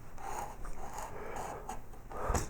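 A carving tool scrapes and cuts into wood, shaping a low relief feather along its quill. Short, soft rasping strokes come one after another, faint and close, with no voices.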